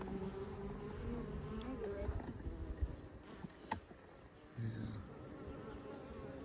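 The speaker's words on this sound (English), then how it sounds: "There's lots of flies out here in the field, so they're harassing the bees and they'll chase them around." Bees and flies buzz close by in an open spring field, a steady insect drone with louder swells and passes, a few faint clicks and knocks mixed in.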